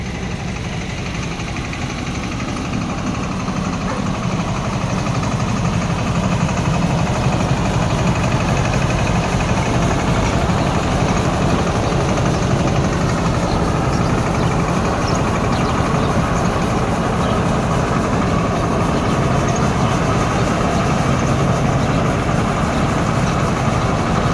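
A tractor engine idles nearby in a steady, low drone at an even level throughout, with no speech.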